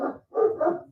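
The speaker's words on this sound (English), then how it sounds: "what you're hearing there is my neighbor's German Shepherd" A neighbour's German Shepherd barks twice in quick succession, close and fairly loud, the deep woofs standing alone with a short gap between them.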